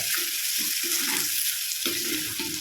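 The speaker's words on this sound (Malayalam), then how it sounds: "ഈ എണ്ണയിൽ തന്നെ ഈ മാങ്ങയൊന്ന് വെക്കുക" Bitter gourd and mango pieces fry in oil for a curry, giving a steady close sizzle broken by soft, repeated stirring scrapes, with no talking.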